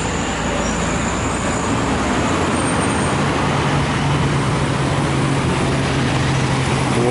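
Tourist bus from Jaya Mandiri Trans driving on a road, a steady loud engine drone and roadway rumble that runs continuously throughout with no talk over it.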